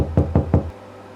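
Three sharp knocks on a door in quick succession, loud and close, then quiet.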